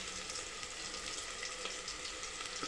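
Curry leaves, onions and green chillies frying in hot oil, a steady close hiss of sizzling with faint stirring, continuous and alone.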